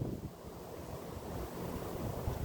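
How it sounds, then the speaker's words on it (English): Steady wind buffets the microphone outdoors during a beehive inspection, a continuous low rumbling roar with gusts that swell and fade, no voices. "This is windier than I would prefer."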